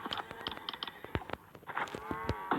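Cow mooing in the video game Survivalcraft 2, several short bellowing calls repeating in quick succession over about two and a half seconds, fairly clear with nothing else around them.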